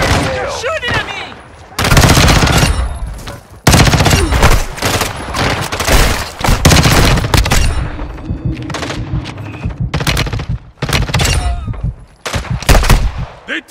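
Enemy gunfire in Call of Duty MW II DMZ, with sustained loud automatic bursts and single shots ringing out close and near-continuously, mixed with occasional booms and players calling out over it.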